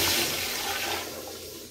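A second flush of a rare 1999 FV Briggs toilet in an office restroom: a strong, close, continuous rush of water that stays loud throughout and eases slightly at the end.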